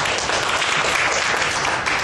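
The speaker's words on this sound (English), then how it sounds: "give our Elken Spirina a big applause" A seated audience at a corporate company event applauds loudly and continuously, a dense wash of many hands clapping at once close to the listener.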